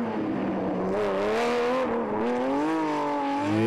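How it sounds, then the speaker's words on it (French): Porsche rally car racing on a closed stage, its engine revving hard and climbing through the gears in a loud, continuous, close-up roar. "Facile de mettre la puissance de cette Porsche sur la route."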